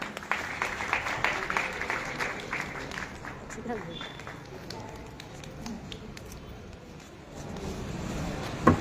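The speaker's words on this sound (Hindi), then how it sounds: "एक बार जोरदार तालियां बजाएं।" Applause from an audience welcoming the chief guest at a school function, a steady spread of clapping through the whole stretch with voices and crowd noise mixed underneath.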